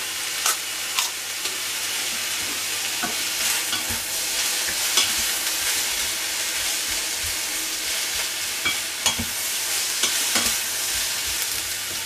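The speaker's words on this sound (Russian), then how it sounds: "Поэтому готовлю на сковородке вок." Vegetables for funchoza stir-fried in a wok give off a steady close sizzle, with sharp scraping stir strokes scattered throughout and no talking.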